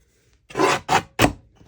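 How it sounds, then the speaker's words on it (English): Three short, rasping strokes in quick succession as black paper is trimmed for a junk journal tag, close and fairly loud with no voices. "That needs to be trimmed just a hair more."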